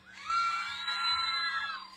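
A crowd at a beach contest show screams and cheers for a contestant, high excited shouts rising together and holding loud for about two seconds.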